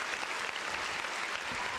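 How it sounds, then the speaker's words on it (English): Applause for sports show guests during a 49ers vs. Vikings game preview broadcast, a steady, even wash of clapping at moderate level with no voices. "Round of applause to you guys."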